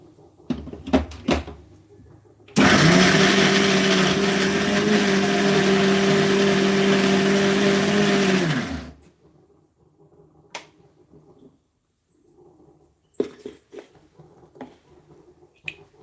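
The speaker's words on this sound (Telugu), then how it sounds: "చూడండి ఈ మిగతాది కూడా నేను మిక్సీ చేసేస్తాను" A mixer grinder blends corn batter for vadas in a continuous loud whirring burst of about six seconds, framed by clicks and light kitchen handling sounds before and after.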